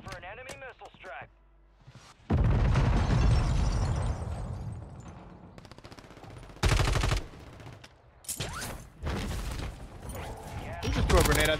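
A grenade explodes in the Warzone video game amid loud broadband game combat, with several heavy bursts and gunfire-like blasts; players talk over parts of it.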